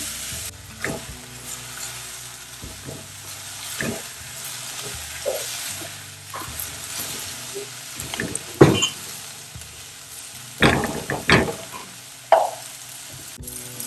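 Banana flower sautéing in a pan sizzles softly and steadily while a spatula stirs and scrapes it, with irregular clanks and sharp knocks against the metal, louder toward the end.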